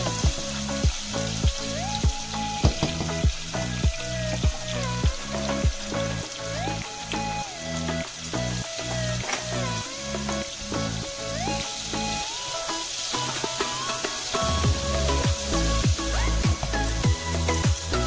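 Onions sauté in a pan for a Maharashtra-style brinjal curry, giving a soft continuous sizzle beneath louder melodic background music throughout.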